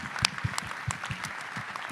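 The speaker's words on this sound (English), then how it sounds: "let's give a big round of applause to all of our bidders" Audience applause breaks out for bidders at a benefit bash, a short burst of clapping with sharp, uneven hand claps at moderate volume.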